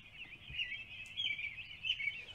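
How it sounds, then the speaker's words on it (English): Birdsong from several small birds in a calm morning setting, a steady run of bright chirps and tweets trilling continuously and fairly close, with no voices over it. "sure enough, the sun was shining, birds were singing, and Splatter and Dodge were still asleep."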